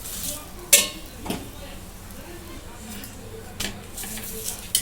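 Dhapate flatbread roasting on a pan is flipped, bringing a few close clinks and scrapes of a utensil against the metal over a soft sizzle, with a sharp knock early on and lighter taps later.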